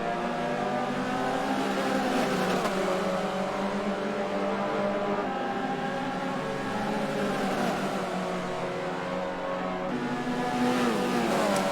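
Several 1965 Alfa Romeo Giulia race cars roar together in the Forza video game, a dense, continuous engine howl with rising and falling revs as they accelerate and shift, close and loud throughout.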